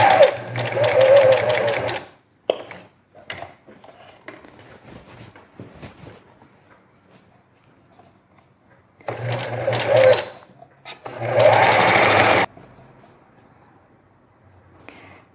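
A domestic sewing machine stitches the hem of a knit jacket in rapid, steady whirring bursts, one of about two seconds, then a pause with soft handling noises, then two more runs of three seconds each, close and clear.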